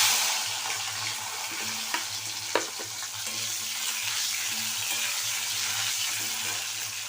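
Fried potatoes going into hot oil with cumin seeds and bay leaves for a banana and shrimp curry, giving a loud continuous sizzle close by, with occasional stirring clinks and a steady low hum.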